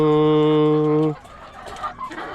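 Hens in a crowded coop: one loud, drawn-out tonal call rings out close by for about a second, followed by quieter scratchy clucking and rustling.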